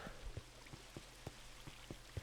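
Rain falling in the Minecraft video game, a faint, soft patter with evenly spaced drip-like taps over a quiet hiss.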